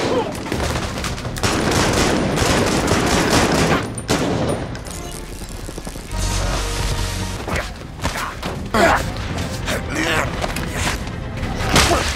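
Gunfire and a fierce fight in an action film scene about a sniper: rapid bursts of shots and loud thuds and booms that come and go in waves, with voices mixed in among the blasts.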